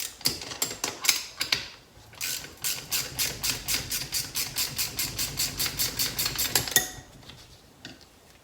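A tube stem nut being loosened and spun off a pit bike wheel, giving a close, fast run of rapid metallic ratcheting clicks that speeds up into an even rhythm before stopping.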